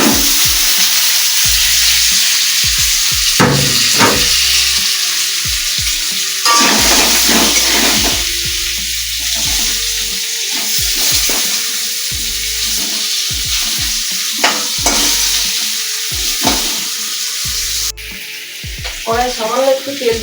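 Potato pieces fry in hot oil in a kadai for chicken biryani, a loud continuous sizzle broken by repeated sharp scrapes and clacks of a spatula stirring, close to the microphone with no talking.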